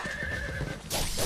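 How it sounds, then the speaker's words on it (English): A horse in the video game Ninja Gaiden gives a loud, close whinny with a high wavering pitch, followed abruptly by a burst of noisy action sound near the end. "Get off your horse!"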